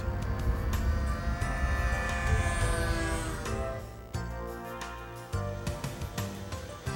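An RC model airplane flies overhead with a continuous buzzing engine drone, loud and steady before easing slightly as it moves away.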